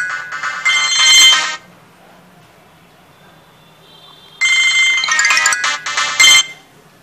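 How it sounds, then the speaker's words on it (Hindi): The call ringtone of an itel Magic X 4G keypad phone plays a short melodic burst, pauses into near silence for a few seconds, then rings again with bright repeated chiming tones. "call ringtone"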